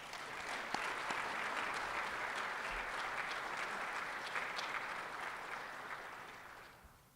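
An audience at the Winter Simulation Conference applauds the board members: dense, steady clapping from a sizable crowd that holds evenly for several seconds and then fades away.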